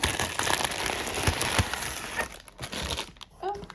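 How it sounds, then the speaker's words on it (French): Plastic packaging from a mailed parcel of Littlest Pet Shop figurines crinkles and rustles up close as it is unwrapped, with steady crackly handling throughout and a brief soft squeak near the end. "je vais le déballer"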